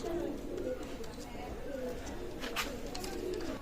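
Soft coos from a pair of Maya pigeons repeat at a low pitch beneath steady background noise and a voice talking.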